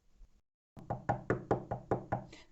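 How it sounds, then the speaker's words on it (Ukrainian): A steady series of eight firm knocks on a door, evenly spaced and close, following a brief faint rustle and a moment of silence. "хтось стукає у двері"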